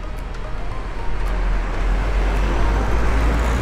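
Steady road traffic from cars passing near a roundabout in the Netherlands, a continuous broadband rumble with strong low-end engine and tire noise, fairly close and loud, rising slightly after the first second, with no talking.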